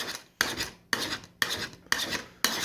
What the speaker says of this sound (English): all you do is continue to file that